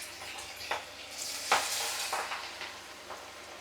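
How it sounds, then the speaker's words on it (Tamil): Fish frying in a pan of hot oil, a steady crackling sizzle with a few louder pops and spatters, close up. "மீன் பொரிக்கலாம்"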